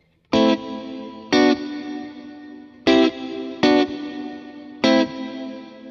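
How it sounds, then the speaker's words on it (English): A Kemper Profiler electric guitar with natural big-room reverb plays five loud, bright, distorted strummed chords at irregular intervals, each struck hard and then ringing out into a roomy tail. "I have the natural reverb, a big room."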